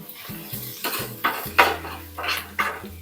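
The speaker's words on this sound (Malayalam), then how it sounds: "ചൂടായ എണ്ണയിലോട്ട് 1 table spoon ginger garlic paste ഇട്ട് കൊടുത്ത് ഒരു 2 തണ്ട് കറിവേപ്പില അരിഞ്ഞിട്ടതേ അത് ഇട്ട് കൊടുത്ത്" Ginger garlic paste and chopped curry leaves hit hot oil for a cabbage snack, giving a steady close sizzle under clinks and scrapes of a spoon against the pan, with sharper bursts of spatter recurring about every half second.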